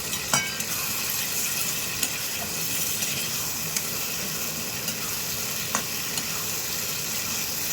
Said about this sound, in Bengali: দিয়ে আমি আর একটু নেড়ে দেবো